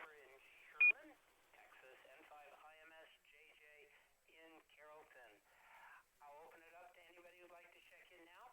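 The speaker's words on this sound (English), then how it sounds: "I got the Roger beep from Echolink." Roger beep from an Echolink-connected station on an amateur radio net: one short, loud electronic tone near the start, followed by several seconds of radio voice transmissions over the channel.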